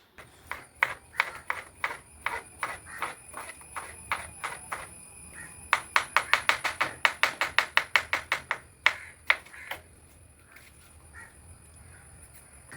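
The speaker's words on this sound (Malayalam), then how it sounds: "ഇനി കുക്കുമ്പർ അരിയാൻ തുടങ്ങാൻ കേട്ടോ" A cucumber is chopped on a board with a knife: a run of sharp, close knocks, sparse at first, then a fast burst of rapid strokes, then a few final slower chops, alone without talk.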